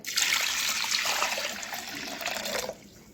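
Water pours steadily onto toor dal lentils in a pressure cooker for a few seconds, splashing and bubbling close by, then stops.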